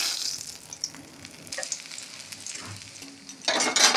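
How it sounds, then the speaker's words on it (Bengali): Whole spices sizzle in hot oil in a pan while cooking curry after frying bhola bhetki fish, a steady crackling hiss that swells loudly near the end as more goes in. "প্রথমে ফোড়ন দেবো"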